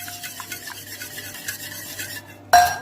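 A spoon stirs salt into beaten eggs and oil in a bowl, making a soft, continuous scraping swirl, ending with a sharp clink of metal against the bowl.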